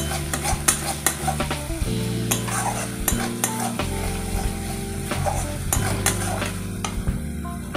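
Fish curry masala for a rupchand fish jhal being stirred in a hot pan, a steady loud sizzle with repeated scraping strokes and clinks of the spatula against the metal, close up.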